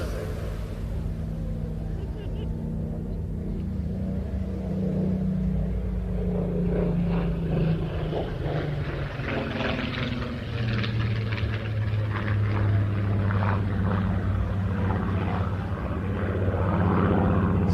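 A Supermarine Spitfire at an air show flies past, its propeller engine drone rising and sweeping in pitch as it passes, steady and moderately loud, with crowd and background murmur.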